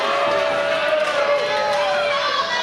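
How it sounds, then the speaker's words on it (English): A wrestling crowd roars for Christopher Daniels, "the Fallen Angel": a dense, continuous wash of cheering and chatter from a large audience, with voices blending into one sustained din. "Crowd comes alive for the Fallen Angel"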